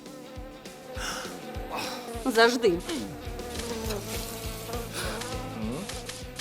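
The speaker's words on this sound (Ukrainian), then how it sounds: "О, муха." A housefly buzzes close by, its whine wavering and rising and falling as it moves around, while someone speaks a brief word over it.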